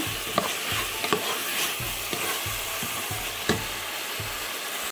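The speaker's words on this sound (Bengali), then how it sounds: "স্বাদ মতো একটু লবণ দিয়ে আবারও একটু নেড়ে নিচ্ছি" Vegetables sautéed with a pinch of salt in a pan, a spatula scraping in a steady rhythm over a constant close sizzle, with no voices.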